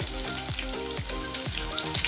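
Crushed shallots fry in hot oil for a mango dal tempering, giving a steady, close sizzle with a regular rhythm of stirring strokes and no talking.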